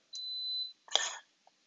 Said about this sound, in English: Things are going to beep for a little while.